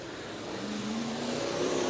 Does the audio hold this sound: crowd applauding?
no